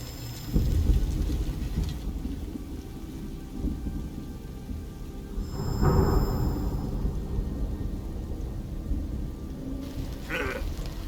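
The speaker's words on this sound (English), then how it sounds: "Who's afraid of a little thunder?" Steady rain from a thunderstorm in the stealth game Metal Gear Solid Delta: Snake Eater, with low rolling rumbles of thunder swelling near the start and again midway, and no talking.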